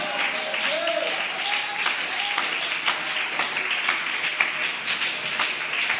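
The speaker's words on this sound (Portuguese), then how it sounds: "Se alguém tem um louvor forte para Deus, bata palmas aí." A church congregation claps hands together during a lively worship service, a steady crackling wave of many hands mixed with voices and talk throughout.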